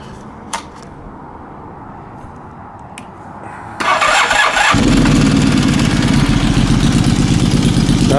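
A Honda CB450 Nighthawk engine fitted in a TRX450R quad cold-starts after a few faint clicks: a loud crank bursts into a steady, rumbling idle that stays close and loud to the end.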